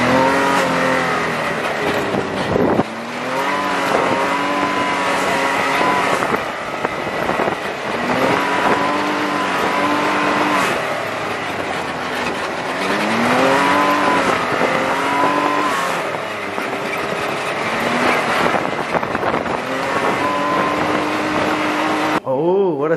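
A Dodge Hellcat and a Shelby GT500 roll race: loud engines rev and climb through gears repeatedly, with rising whines and roaring exhaust over steady wind noise, and people talk throughout.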